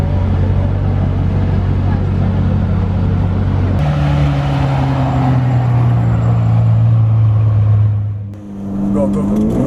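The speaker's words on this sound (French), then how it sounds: "Un joli bruit d'une GT4 Lusso qui est en train de partir" Ferrari GTC4Lusso V12 pulling away, a loud engine drone that steps up with a gear change and rises in pitch as it accelerates off, with a voice talking over the engine.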